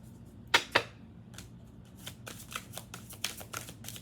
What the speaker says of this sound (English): These cards are just flying out.